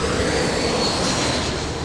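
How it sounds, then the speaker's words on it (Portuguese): Aircraft near Congonhas airport in São Paulo produce a loud, continuous broadband engine roar with a faint whine, steady throughout and with no voices. "Por causa dos transtornos causados pelos ruídos dos aviões"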